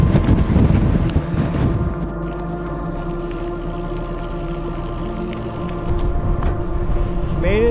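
Heavy wind roars across the microphone at Dunnet Head at the end of a bikepacking route, loud and steady with gusts rising and falling, and a brief voice near the start.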